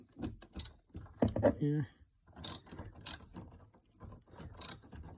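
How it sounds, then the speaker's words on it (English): Socket ratchet with a 5/16 socket working the side mirror bolts on a 2008 Honda Odyssey, giving a few short sharp clicking bursts between stretches of close talk. "It's a 5/16, just a socket on a ratchet."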